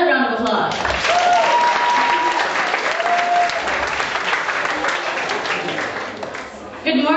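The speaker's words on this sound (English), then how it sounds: "So can we give them another round of applause?" A camp crowd at a morning worship service breaks into full, dense applause that swells and holds steady for several seconds, with a few brief whistle-like tones rising above it before the clapping tapers off.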